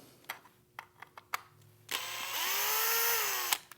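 Power tool backing screws out of a MicroIQ electronic lock during teardown, a few sharp clicks and knocks followed by a sustained, loud whirring drive of about a second and a half.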